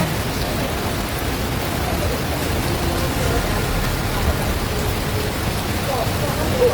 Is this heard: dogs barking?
no